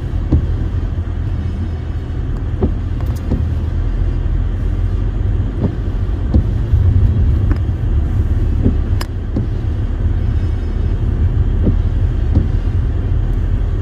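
A car drives along a road toward the Großlangheim castle ruin in the Kitzingen district, giving a steady, loud low engine and road rumble throughout with occasional faint clicks and no talk.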